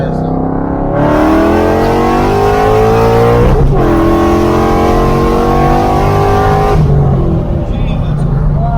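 A Coyote-engined Ford Foxbody climbs to high RPM with a loud, steady engine roar that rises in pitch, dips sharply on a gear change, then climbs again, heard from inside the car with occupants talking.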